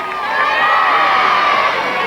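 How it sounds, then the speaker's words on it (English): A crowd of schoolchildren from George Spurgen School bursts into a loud, sustained cheer and hooray for parents and friends at a centenary celebration, voices blending into one bright, whooping roar. "Let's give them a big cheer."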